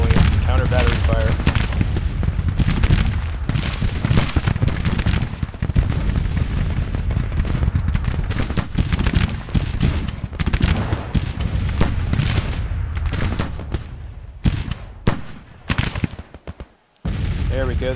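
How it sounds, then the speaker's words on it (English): Counter-battery artillery in the Civil War strategy game Grand Tactician: repeated cannon booms and rattling volleys pound almost without pause, with someone talking over the battle. "We gotta get some counter battery fire going."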